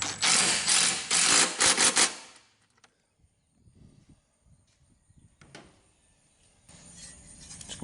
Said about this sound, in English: My camera don't like this rattle gun noise.